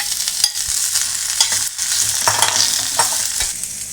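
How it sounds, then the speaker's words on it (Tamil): Slices of raw green mango fry in hot oil for a Tamil mango pachadi, giving a steady close sizzle with irregular stirring scrapes and clicks throughout and no voices. "இப்போ இந்த மாங்காய் லைட்டாக ஆயிலில் ஃப்ரை பண்ணுங்கள்."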